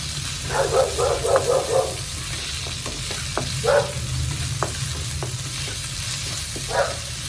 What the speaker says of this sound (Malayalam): രണ്ട് തക്കാളിയാണ് നന്നായിട്ട് വെന്തോട്ടെ